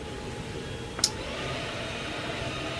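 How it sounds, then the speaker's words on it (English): A vacuum cleaner runs outside an apartment as a steady, muffled, moderately distant drone, with one sharp click partway through. No one speaks. "someone's vacuuming outside my apartment"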